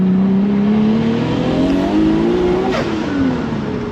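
Ethanol-fuelled turbocharged car with older turbo technology pulling hard up a mountain touge road, engine note climbing steadily and loud throughout, with one shift partway and close in-car drone.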